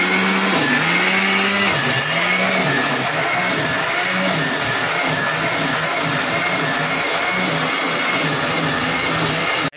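A kitchen mixer grinder runs with a loud, steady whine whose pitch dips and rises at the start as the load shifts, then drones continuously for nearly ten seconds before cutting off.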